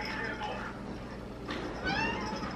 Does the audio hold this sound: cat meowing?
yes